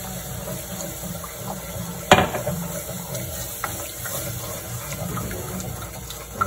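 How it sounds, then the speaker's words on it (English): Almond milk is poured into a cooking pan, giving a steady liquid trickle and gush close by with a sharp clink near the start. "this is the time I'm going to go ahead and add our milk in here"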